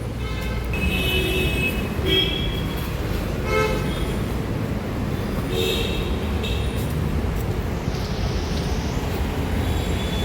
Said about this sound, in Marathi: हे आहे मुंबईचं ट्रॅफिक